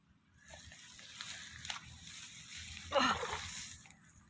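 Freshly caught tilapia flap in shallow water inside a cage trap, making soft sloshing and a sudden, brief splash burst near the end against a quiet background.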